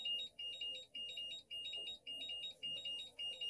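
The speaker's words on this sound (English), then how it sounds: "Now that was the buzzer that you will hear when the charger is done charging also." Venom PRO 3 battery charger sounding its warning buzzer, a loud, rapid series of high electronic beeps repeating in regular bursts with short gaps, close up and alone.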